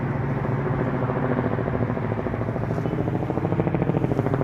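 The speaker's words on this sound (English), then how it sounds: "Helicopter." Helicopter passing overhead near a van parked for a build, a steady rhythmic rotor chop with a low engine drone, moderately loud and continuous throughout, with no one talking.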